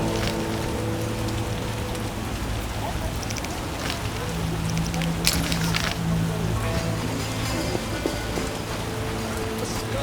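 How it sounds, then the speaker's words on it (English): Steady rainfall in The Witcher video game, a constant dense hiss of drops on surfaces filling the scene, loud and continuous with a faint low hum beneath. "Scourge of the Lords, this rain."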